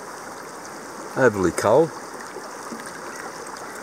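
A mountain creek over bedrock flows with a steady, close wash of running water while gold panning, continuing under a brief spoken remark from someone in the stream.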